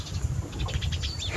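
Collared doves coo softly from a rooftop terrace on a foggy day, their faint calls partly buried under steady broadband outdoor noise.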